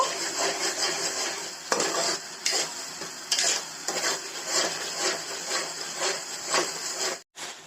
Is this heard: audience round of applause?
no